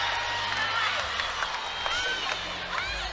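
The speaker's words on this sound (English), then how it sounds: "I think that crowd loved it." A college gymnastics arena crowd in an LSU vs Georgia women's meet cheers and claps after a floor routine, a steady roar of applause and whistles at a distance, with a commentator talking over it.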